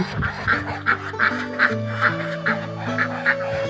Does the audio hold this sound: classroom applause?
no